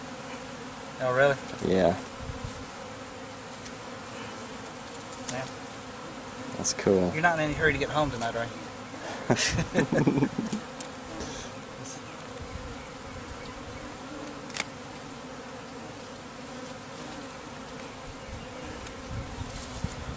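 A honey bee swarm in April gives off a calm, continuous hum that stays steady throughout, close by, while people chat casually over it.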